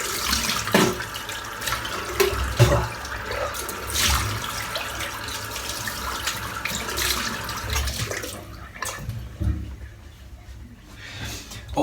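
Tap water runs steadily into a sink during rinsing after a shave with a OneBlade razor, a continuous close splashing flow that thins and quiets near the end.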